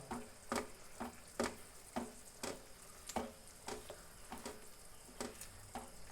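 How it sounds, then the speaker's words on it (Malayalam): Egg gravy sizzles softly in a pan with no oil while a utensil scrapes the bottom in a steady run of quick, close ticking strokes. "അപ്പോൾ നമ്മൾ നിൽക്കാതെ ഇങ്ങനെ ഇളക്കിക്കൊണ്ടേയിരിക്കണം, അല്ലെങ്കിൽ ഇത് ഇതിൽ നിന്ന് വേറിടുന്ന വരെ നമ്മൾ ഇളക്കണം"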